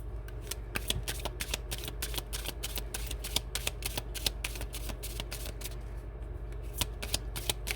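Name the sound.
shuffling tarot cards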